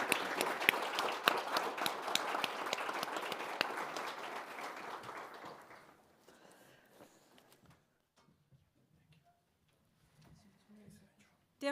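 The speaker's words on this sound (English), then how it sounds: "you deserve a round of applause." An audience applauds at the end of a conference session on climate and cybersecurity security challenges, loud dense clapping for about six seconds that dies away into quiet room noise with a few faint shuffles and movements.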